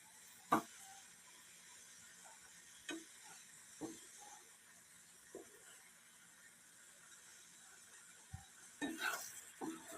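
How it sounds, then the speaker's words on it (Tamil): A utensil scrapes and knocks against a pan several times at irregular intervals, stirring a boiling date mixture with a soft bubbling simmer underneath. "நல்லா கொதிக்குது, கிளறி விட்டுலாம்"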